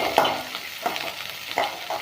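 Chopped onion sizzles in hot oil with mustard seeds for a bottle gourd stir-fry, a steady close crackle broken by a few sharp pops and spatters.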